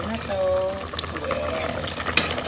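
A pot of sotanghon noodle soup bubbles at a rolling boil, a close, continuous bubbling and simmering hiss heard under a person talking.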